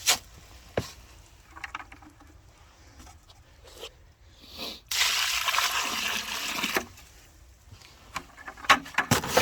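Water is poured into a concrete mix for a chicken coop slab, with a bursty splash and gush in the middle amid scraping and handling noises, heard close up.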